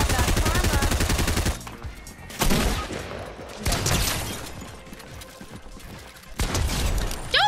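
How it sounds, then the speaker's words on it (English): Bursts of gunfire ring out in a Fortnite match, several loud clustered shots separated by pauses, with players talking between and over the shooting. "guess what I have? A hunting rifle?"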